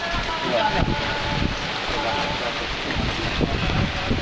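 Strong typhoon wind and rain roar steadily around a tent area, a dense continuous rush with gusty swells, while people talk nearby.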